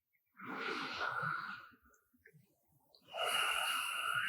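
Deep, slow yoga breaths in a quiet room: a long, airy exhale, a soft pause, then another full breath drawn in, close to the microphone and unaccompanied by talk.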